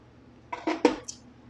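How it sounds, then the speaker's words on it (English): Lid of a Noxxa pressure cooker being set in place and closed during cooking of sticky rice: a few quick clattering knocks of metal and plastic over about half a second, close and moderately loud, ending in a small bright click. "Now, after we mix, then we close the lid."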